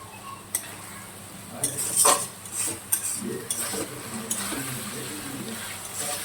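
A spoon stirs mutton curry with tomatoes in a pan, giving soft scraping and clinks of metal, a couple of sharper knocks and a faint sizzle underneath.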